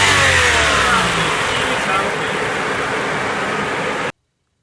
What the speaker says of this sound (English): So now we got ourselves a healthy engine for the Camry.